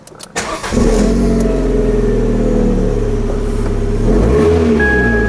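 An Abarth 595 Competizione engine cranks briefly and catches, then settles into a loud, steady idle with a slight rise in revs near the end; its check engine light comes on.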